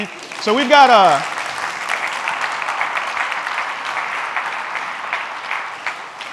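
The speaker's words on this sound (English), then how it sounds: "Round of applause." A voice calls out briefly at the start, then steady audience applause follows at a tech conference talk about augmented reality, moderately loud and even until the end.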